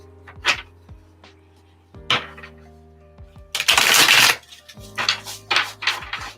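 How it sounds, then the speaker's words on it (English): Tarot cards being shuffled by hand in short, crisp riffling bursts that repeat several times, with the longest burst in the middle, close and fairly loud, with no talking. "you can't be picky about my shuffling when you're sitting on my lap"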